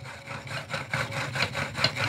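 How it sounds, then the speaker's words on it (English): A hand-made pump drill bores into stone, giving a steady close-up rasping grind that swells and fades in quick, regular strokes as the spindle spins back and forth. "that is a pump drill, and that's how a pump drill works"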